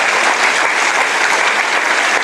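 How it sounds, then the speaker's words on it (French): A packed hall at a spiritual retreat erupts in loud, sustained applause, a thick unbroken wash of many clapping hands with no pauses. "let us give an applause to the Lord for our men"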